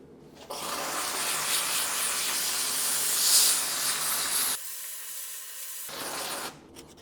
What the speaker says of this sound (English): I have a steam machine, don't I? Yes. Steam is the answer to clean the carbon here.